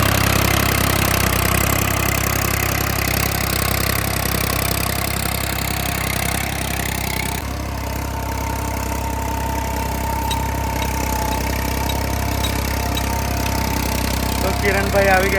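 A 39 HP Holland tractor with a cultivator attached runs with no load at about 1500 RPM, giving a steady, close engine drone that dips slightly midway before continuing evenly to the end.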